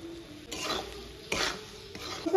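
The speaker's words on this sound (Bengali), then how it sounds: "ভালো করে ভেজে নেব এখন।" A spice mix of salt, turmeric, Kashmiri chilli powder, ground nuts and breadcrumbs is stirred and fried in a pan, with three separate bursts of scraping and soft sizzling and no voices.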